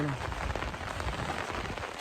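Steady rain after hours of continuous downpour makes a broad, constant hiss of drops striking surfaces. It is fairly close and unbroken throughout.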